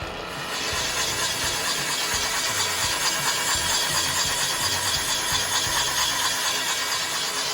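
A cylinder boring machine running in slow drive while cutting sleeves for a 1948 Lincoln V12 engine block, a steady loud mechanical whir with a pulsing low rumble that holds evenly throughout, close by and without speech.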